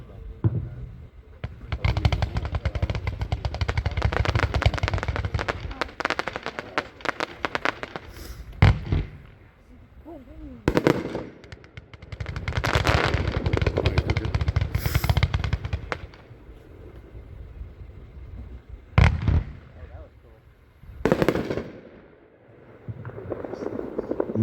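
A Winda 99-shot Chroma Chameleon fireworks cake fires outdoors at a demo show, with long rapid volleys of launches and bursts. Sharp single booms come between the barrages, with distant crowd voices underneath.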